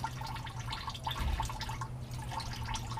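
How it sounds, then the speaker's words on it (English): Diesel fuel drips from a loosened fuel filter housing on a Ford F350 with the 6.7L engine, a soft, irregular patter of drops against a steady low background hum, close by. "Get this thing to drip till she quits."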